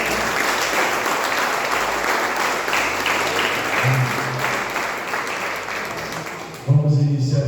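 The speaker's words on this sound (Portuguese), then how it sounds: "Uma salva de palmas ao Senhor Jesus" A church congregation claps in sustained, dense applause at a Baptist church anniversary service. The clapping holds steady, eases slightly near the end, and a voice cuts in.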